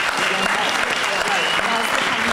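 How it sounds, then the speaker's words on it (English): Audience applauding panelists at a theatre panel discussion hosted by a theater company, a steady dense clapping from a sizable crowd that holds at full strength without pause. "let's give all of our panelists a round of applause"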